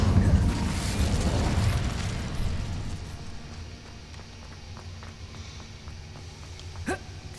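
An Incendio fire spell in Hogwarts Legacy: a loud whooshing burst of flame and rumble that swells at the start, then fades into a low crackling tail, with a small sharp pop near the end.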